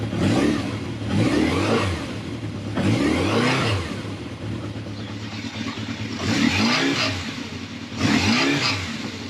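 A 1979 Kawasaki KZ motorcycle, 41 years old, being revved in place: five or six sharp throttle blips rising and falling in pitch, loud and close, with a rough idle between them and no talk.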